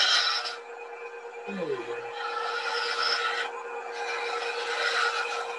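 A wood-turning tool scrapes and rasps against spinning wood on a lathe while shaping a paper towel stand, in steady close passes with short pauses, over a constant motor hum.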